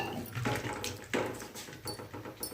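Vegetable pieces are rinsed again and again in water by hand, making uneven sloshing and splashing bursts at close range.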